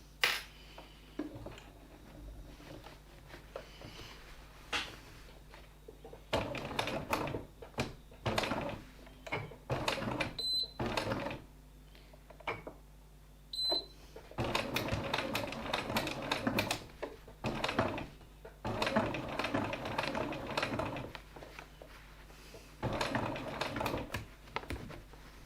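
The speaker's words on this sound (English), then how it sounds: "top stitch on top of the previous top stitching" A sewing machine top-stitching over earlier stitching on a fabric assembly, running in several bursts of rapid mechanical clatter separated by pauses and small handling noises, close and alone.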